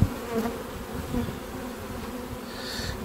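Honeybees at an open beehive give off a steady, dense buzz close up, a continuous drone with no talking over it.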